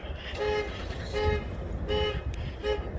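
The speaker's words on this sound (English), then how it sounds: "Sounds like you got a weak horn" A weak, thin horn on a 2018 Ford F150 truck toots four short times at a steady rhythm over a low idling engine rumble.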